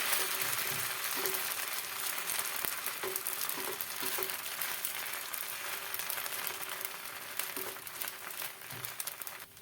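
Soft, steady sizzle of about two spoonfuls of batter spread in an oiled hot pan, with light scraping and faint clicks, fairly quiet and continuous, no speech.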